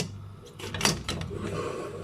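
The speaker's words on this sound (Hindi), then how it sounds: "कुकर को बंद कर दीजिए।" A short metallic clatter and thud as a pressure cooker lid is set down and locked, a few quick knocks close up in a quiet room.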